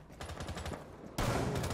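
Rapid gunfire in the tactical shooter Rainbow Six Siege, a string of quick muffled shots followed by a louder, closer burst, all fairly faint overall.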